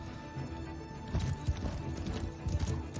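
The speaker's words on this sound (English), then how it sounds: "you know when you hear horses like that" Horses' hooves pound rapidly in a steady galloping rhythm, loud and close, with a faint whinny mixed into the rumble.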